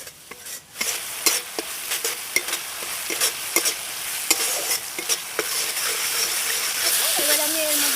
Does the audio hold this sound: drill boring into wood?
no